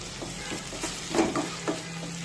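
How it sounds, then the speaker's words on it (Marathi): Finely chopped tomato sautés in a pan, with a close, steady sizzle and a few soft scraping stirs from a spoon. "टोमॅटो सुद्धा छान मऊ होईपर्यंत परतून घ्यायचा आहे"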